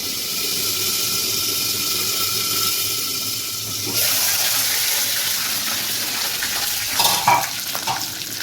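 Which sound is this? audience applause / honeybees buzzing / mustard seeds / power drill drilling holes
mustard seeds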